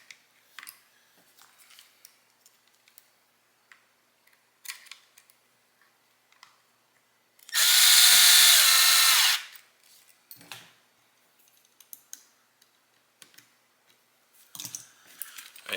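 A power driver runs an M3x12 screw into an RC crawler chassis in one loud whirring burst of about two seconds, surrounded by quiet clicks and handling noises of small parts.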